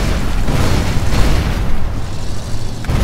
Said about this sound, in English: Things gonna explode.